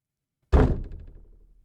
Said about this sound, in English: it's knocking right outside the door